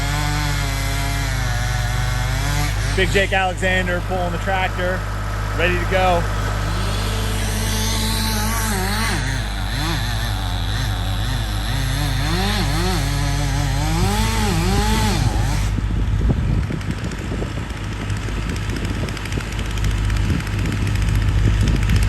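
A chainsaw cuts through a cherry tree, its engine roaring loud and close throughout, pitch dipping and rising as the chain bites into the wood, with someone talking over it early on.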